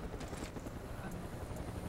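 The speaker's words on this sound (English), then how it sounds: "Get in the helicopter." Helicopter in the video game Mercenaries 2, a steady rotor and engine drone sounding quietly and continuously throughout, with no talk over it.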